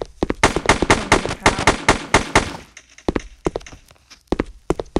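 Pistol shots in an army video game crack in a quick rapid series, then continue as sparser, sharp reports, loud and close, with no talk over them.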